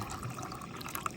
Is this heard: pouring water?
yes